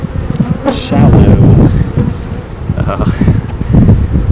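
Honeybees from a relocated swarm buzz loudly and continuously at a hive, a dense close-up drone with light wind noise against the microphone.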